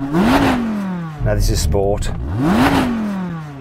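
Audi R8 GT with its V10 and exhaust set to sport mode, two strong rising revs that flank a short stretch where someone speaks over the engine, loud and close.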